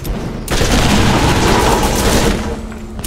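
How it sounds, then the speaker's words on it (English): Grenades explode in a Borderlands firefight, a loud sustained burst of booming blasts and crackling gunfire lasting a couple of seconds before easing off, close and dense, with no speech. "Oh, I love my grenades. They do so much damage."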